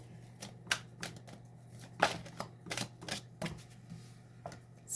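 A deck of tarot cards being shuffled up close, a series of quick, crisp riffling flicks and taps in irregular bursts over several seconds, fairly quiet and with no talk.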